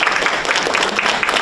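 Brief burst of audience clapping at a school district board meeting, steady and moderately loud, filling the room for a moment.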